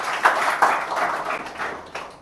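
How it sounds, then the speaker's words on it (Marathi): An audience claps hands in a classroom or lecture setting, a steady spread-out patter of many hands at moderate distance with a few sharper individual claps standing out, fading slightly toward the end. "टाळ्या वाजवा."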